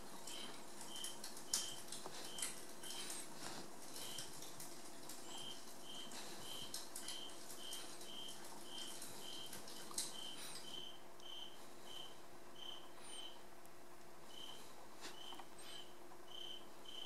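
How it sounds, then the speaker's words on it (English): A single cricket chirps indoors in a house, a faint but steady train of short, evenly spaced chirps against a quiet room hum, with no voices. "Sorry if the cricket is bugging some of y'all, I do apologize."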